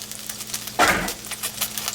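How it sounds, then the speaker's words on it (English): Chopped onion hitting a hot pan for a creamy mushroom omelette, a sudden burst of sizzling that starts abruptly and then settles into a steady, softer crackle. "now we're going to put in our onion"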